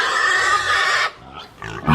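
A person imitating a pig's squeal, a short nasal high-pitched vocal squeal lasting about a second, then a pause and a couple of softer squeaky bits, loud and close.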